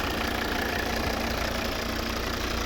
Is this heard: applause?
no